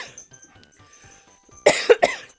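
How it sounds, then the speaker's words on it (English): A person coughs twice in quick, harsh bursts, close and loud, after a stretch of quiet room noise with faint background sounds. "Now I've got the cough and I need a drink."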